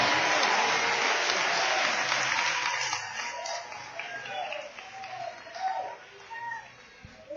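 A church congregation at a Sunday worship service breaks into dense, sustained applause that gradually thins and fades, with voices mixed in as it dies down.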